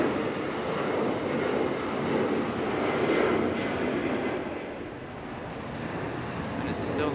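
JetBlue airliner passing at Raleigh-Durham International Airport, a broad steady jet engine roar that swells slightly then eases, moderately distant, with no clear talk over it.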